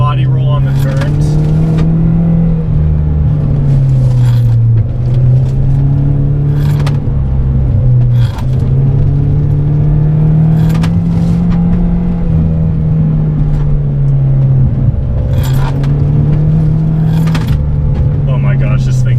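A front-wheel-drive car on Maptun suspension is driven hard, its engine droning loud and steady inside the cabin with the pitch wavering as it pulls through turns, while a voice talks over it.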